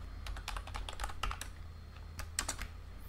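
Rapid keystrokes on a computer keyboard while typing a folder name, bursts of clicks in quick irregular runs with short pauses, close and fairly soft, no talking.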